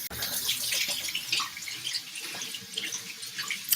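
Steady rush of tap water pouring into a kitchen sink while black beans are rinsed, continuous and close with splashing texture throughout, no voices.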